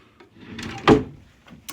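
A kitchen drawer in a converted cargo trailer slides and knocks shut with one sharp thud, with faint rustling before and after and no talk.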